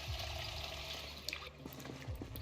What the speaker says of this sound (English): Now let's fill the water bottle.